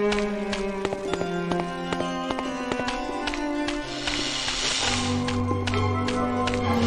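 A track from the Might and Magic VII video game soundtrack plays as sustained melodic tones with shifting notes, under soft tapping and thudding game effects, at moderate volume.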